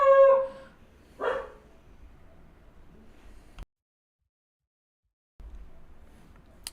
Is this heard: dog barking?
yes